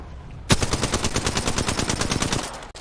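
Automatic gunfire in Apex Legends rattles out in one sustained, loud burst of rapid, evenly spaced shots lasting about two seconds, with no talk.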